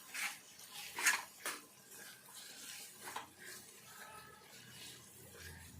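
A fried onion, garlic and dried chili mixture with coriander seeds is stirred in a pan, giving a few sharp metallic scrapes and clinks of the spoon, then softer, continuous scraping.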